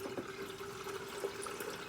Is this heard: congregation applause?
no